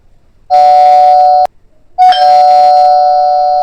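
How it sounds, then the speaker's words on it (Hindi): An electronic doorbell chimes twice, two sustained bright tones separated by a short pause, loud and close with nothing else around it. "इतने में डोरबेल बज जाती है।"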